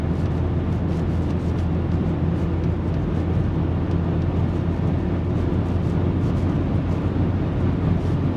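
A Peugeot 308 SW with a 1.6 diesel engine cruises at high speed on a highway, giving a loud, steady drone of engine, road and wind noise heard from inside the cabin, with no talking.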